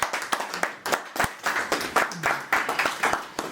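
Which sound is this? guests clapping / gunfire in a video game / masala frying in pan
guests clapping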